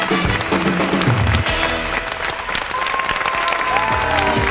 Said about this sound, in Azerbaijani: Alqışlayırım.